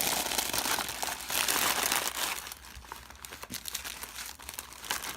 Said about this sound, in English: Let me just go ahead and try to stuff everything back in here the way that I had it.